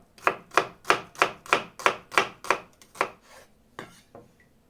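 A knife chops onion and potatoes on a board for borscht, about ten crisp, evenly spaced strokes close up, tapering into a few softer, slower cuts at the end.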